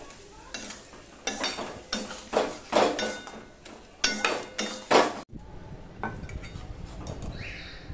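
A spatula stirs and scrapes food in a hot kadai, several bursts of scraping and clinking against the metal over a faint sizzle, then a quieter stretch.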